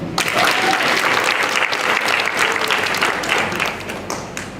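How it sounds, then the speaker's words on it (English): An audience at a hospitality training programme graduation claps loudly for the trainees, a full sustained round of applause that tapers slightly at the end, with faint voices mixed in. "Clap them up."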